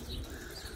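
Pigeons coo low and soft inside a loft, a brief murmur over a noisy, rumbling background.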